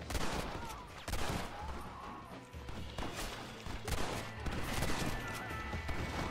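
Gunfire from a shootout in the Red Dead Redemption video game: repeated sharp gunshot bursts over a steady loud rumble of game sound, sometimes hinting at fast fire, with faint voices now and then.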